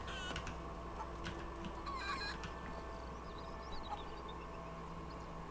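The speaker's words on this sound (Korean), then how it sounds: "어 닭봐" Chickens cluck softly in a few scattered bursts in the video game A Plague Tale: Innocence, faint and somewhat distant over a steady low ambient hum.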